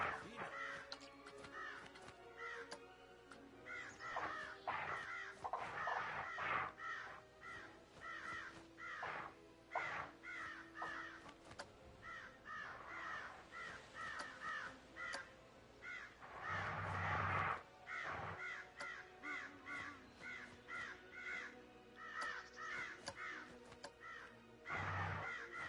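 Crows caw over and over in the video game Planet Coaster. The harsh calls come in quick, overlapping bursts that run steadily throughout, close and fairly loud.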